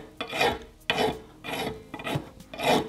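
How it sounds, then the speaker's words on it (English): Big round file opening up a miter on a motorcycle shifter or brake part, making five rasping back-and-forth strokes of even rhythm with short pauses between them, close and fairly loud. "my big round file."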